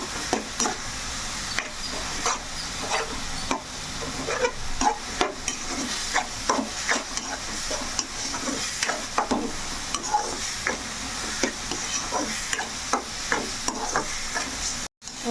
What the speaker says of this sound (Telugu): చక్కగా ఇలా వేపేసుకోవాలి వేగిపోయింది కదా గోంగూర